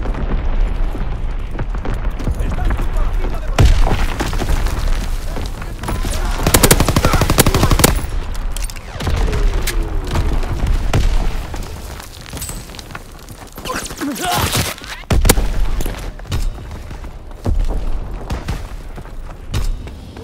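Artillery strikes land in a World War II battle in Call of Duty: WWII, a long stretch of loud booming impacts mixed with rattling automatic gunfire, rising and falling in repeated heavy bursts.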